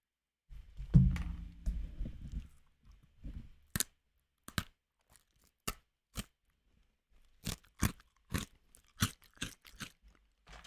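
Crunchy Chex Mix being chewed close to a regular microphone, opening with a burst of dense crunching, then a series of sharp, separate crisp crunches spaced irregularly between quiet gaps, with no talking.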